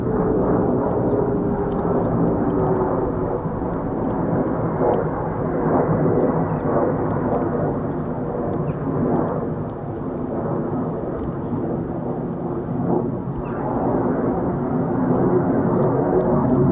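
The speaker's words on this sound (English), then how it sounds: "F-35As high and dry of Lake and Heath." F-35A fighter jets fly high over RAF Lakenheath, producing a sustained deep, rumbling jet roar that swells and eases over the whole stretch, with no talk.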